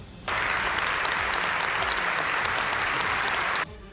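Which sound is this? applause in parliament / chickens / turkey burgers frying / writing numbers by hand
applause in parliament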